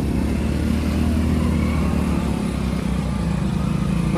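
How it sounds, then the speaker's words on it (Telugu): A motorcycle rides through the narrow lanes of Prayagraj during the Maha Kumbh, a steady close engine drone with a constant mid-range hum and no talking. "బైక్లు వాళ్ళు చిన్న గల్లీల నుంచి వచ్చేస్తారు."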